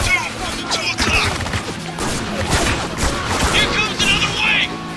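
Gunfire from the video game Spec Ops: The Line: rapid overlapping bursts and sharp cracks in a close, loud firefight, with shouted voices mixed in.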